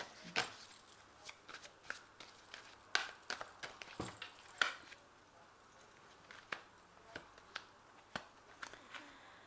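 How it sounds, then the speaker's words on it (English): Archangel Tarot cards are shuffled and drawn in quiet, close, rapid riffles and flicks. Irregular papery snaps come in clusters over a near-silent background. "So I'm just going to draw some cards from the Archangel Tarot."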